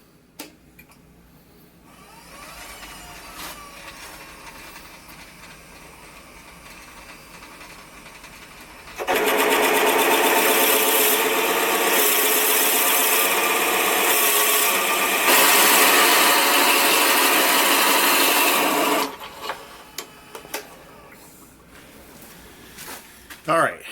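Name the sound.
Forstner bit drilling out the center of an oak cup blank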